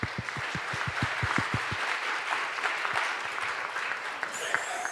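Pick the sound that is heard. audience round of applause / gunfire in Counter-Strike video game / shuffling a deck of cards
audience round of applause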